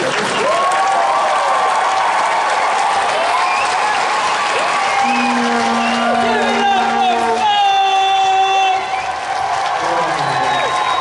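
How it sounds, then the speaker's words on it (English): A comedy show audience, at an anime convention, breaks into loud applause, cheering and whoops that stay steady and close, with voices shouting through the roar. "he got everyone cheering back at him"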